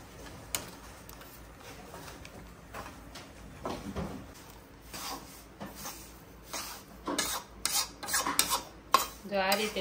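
Adadiya pak mixture roasts in a pan, stirred with a spoon that scrapes and clinks against the metal in uneven bursts over a faint sizzle. The sound is fairly quiet and close.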